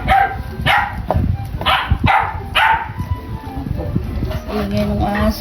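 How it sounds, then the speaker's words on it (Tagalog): A dog barks repeatedly close by during a family birthday gathering, about five sharp, loud barks in an uneven rhythm, followed by quieter yips and whimpers over background clatter and faint voices. "Ingay ng aso."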